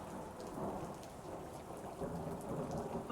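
Steady rain falling and pattering on surfaces, with a low, continuous rumble of thunder underneath, quiet and distant, with no voices.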